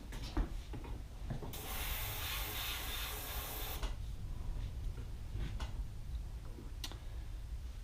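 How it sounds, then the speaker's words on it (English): An airbrush sprays paint onto a 1/64 scale Kenworth truck model, giving a steady hiss of about two seconds between faint ticks and clicks in a quiet room. "Here I have my airbrush, and it's the exact same color that I used on the base."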